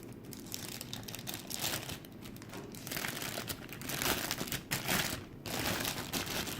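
Close, fairly soft crinkling of thin plastic as a bag is handled and pulled away, in bursts of rustling with brief pauses between.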